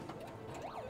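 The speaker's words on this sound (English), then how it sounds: "It's making that siren noise." Game machine's siren noise, a warbling rising and falling electronic wail over a busy mechanical whir and clatter, moderately faint and brief.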